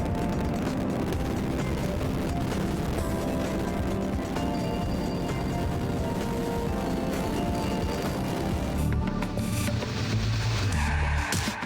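A United Launch Alliance Delta IV Heavy rocket lifts off on the NROL-37 mission with a continuous, loud, broadband engine roar that holds steady and grows rougher with crackling toward the end.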